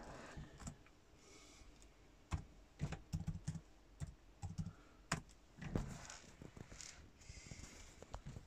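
Password typed on a Dell Inspiron 15 3511 laptop keyboard: quiet, irregular bursts of close key clicks and taps, with no talk.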